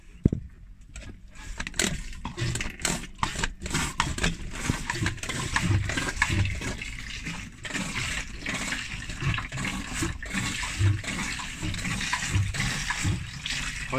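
Oily water mixed with waste oil being suctioned out of a boat's engine bilge, a steady gurgling, slurping pump-and-water noise with splashy bursts, close and continuous throughout.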